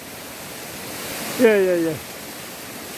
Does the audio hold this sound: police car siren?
no